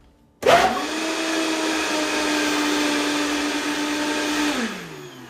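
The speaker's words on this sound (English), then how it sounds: "When it's a little thick like this, the Vitamix just doesn't turn." A Vitamix blender churns thick key lime pie filling, a loud steady motor whine with a strained low drone that holds for several seconds, then winds down as it stops.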